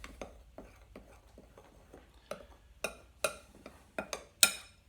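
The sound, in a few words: stirring dry ingredients in a bowl for tortilla dough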